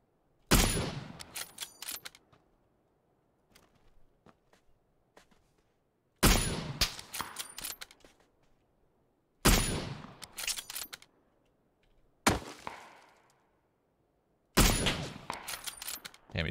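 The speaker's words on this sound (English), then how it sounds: "he's going for quick shots" Quick gunshots in PUBG ring out in five separate groups, each a sharp crack or short cluster of rapid shots with a trailing echo, spaced by long near-silent gaps.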